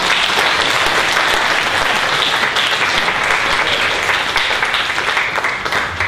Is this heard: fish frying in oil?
no